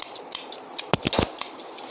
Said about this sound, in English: as usual, taking out my scissors.